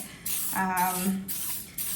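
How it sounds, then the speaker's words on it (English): Coconut oil cooking spray misted into muffin cups for blueberry banana muffins: three short hissing bursts in a row, close by, with a brief hum between them. "we're gonna take this coconut oil spray and we're just gonna lightly spray each muffin cup"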